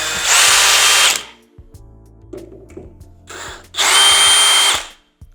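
A power screwdriver removing screws from a JBL Partybox 720 speaker: two loud, steady whirring bursts about a second each, separated by quieter handling clicks and rattles.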